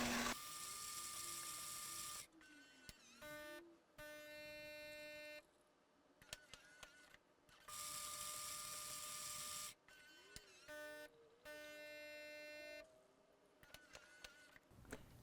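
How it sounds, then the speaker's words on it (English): A Gaggia Magenta espresso machine runs a double cycle with two bursts of grinding and brewing. Steady motor whirs alternate with beeps, clicks and pump tones, heard close and moderately loud with no one talking. "This is going to grind and brew these drinks twice."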